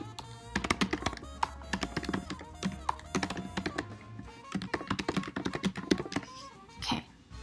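Typing on a computer keyboard comes in quick clustered bursts of crisp key taps with short pauses between runs, close and moderately loud, with a low hum in the background.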